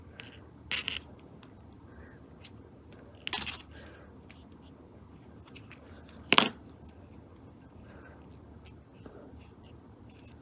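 Beading material for a handmade beaded ring snipped off with scissors or cutters, with a few brief, sharp snips spread out over quiet handling noise.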